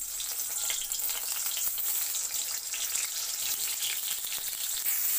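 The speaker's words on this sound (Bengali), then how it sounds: "তেলের মধ্যে এবারে আমি পটলগুলো ছেড়ে ভেজে নিচ্ছি।" Pieces of pointed gourd (potol) fry in hot white oil in a kadai, giving a steady bright crackling sizzle that stays loud and even throughout, with no voices.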